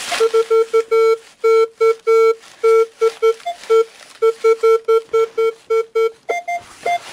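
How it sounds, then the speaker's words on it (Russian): Loud electronic metal detector tone beeping in rapid repeated pulses over a coin in an attic, steady pitch with brief gaps, near and alone without talk. "Хотя похоже на монетный сигнал."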